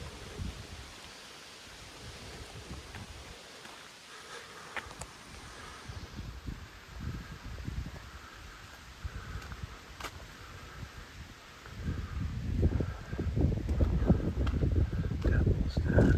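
Wind gusts across an outdoor Gettysburg battlefield trail, rumbling against the microphone and swelling louder toward the end, while someone talks.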